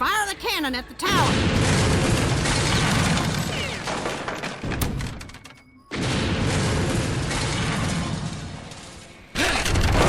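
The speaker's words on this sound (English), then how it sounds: "Rhiannon, fire the cannon at the tower." A cannon in the video game Fenimore Fillmore fires at a tower, with heavy, loud booming volleys and rattling gunfire. Two long bursts are split by a brief drop to near silence, and voices sound faintly underneath.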